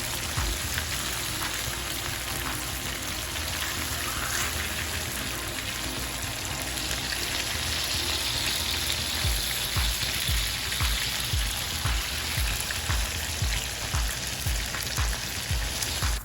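Fish frying in a pan, Jamaican style, gives a steady crackling sizzle throughout, dense and close, with scattered spitting pops and no voices.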